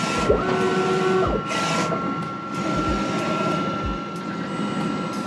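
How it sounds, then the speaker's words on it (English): An Omniprint DTF printer runs a nozzle check, giving a steady mechanical hum with a high whine. Low thuds recur as the print carriage moves. "let's go ahead and do our nozzle check. Push that button there."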